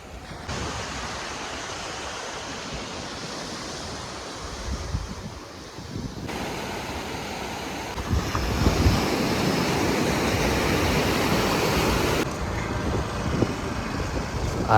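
Ocean waves wash continuously onto a beach in Goa, a broad roar of surf with wind buffeting the microphone, steady and fairly loud without voices.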